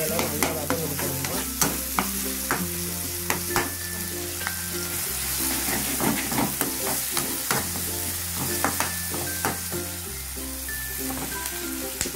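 Tomato and onion sautéing in a pan, a steady sizzle with repeated scraping stir strokes that come and go, fairly close; a tune plays underneath throughout.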